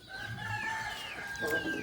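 A native rooster crows in a long drawn-out call, fairly close and clear, with faint farmyard clucking beneath it.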